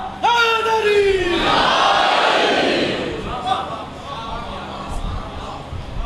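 At a Muharram majlis in an imambargah, a preacher's drawn-out call sets off a crowd chanting the slogan Naara-e-Haidari, a loud, massed roar of voices that swells, holds, then fades into scattered shouts.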